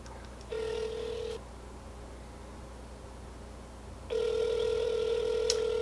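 A telephone call rings out: two long steady electronic ringback tones separated by a silent gap, the second starting near the end, with faint room noise and no talking.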